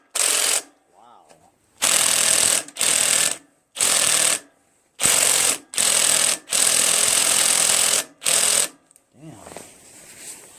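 An impact wrench works at a stuck nut on a Craftsman lawn tractor. It fires in about eight loud, harsh bursts, each lasting under a second, with short silent gaps between them and a soft clatter at the end.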